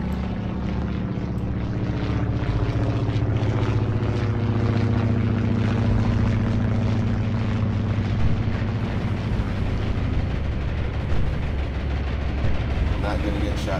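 Land-based aircraft in the naval game Atlantic Fleet, a steady, loud propeller-engine drone with rumbling low tones that holds for the whole stretch, with battle noise mixed in.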